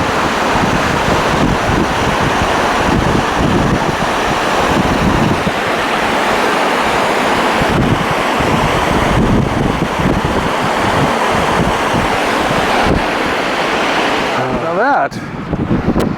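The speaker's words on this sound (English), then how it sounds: "you can hear the water flowing" A waterfall pours into a big canyon along a hiking trail, a loud, constant broadband roar of rushing water with some wind buffeting the microphone, running steadily throughout before a brief shift near the end.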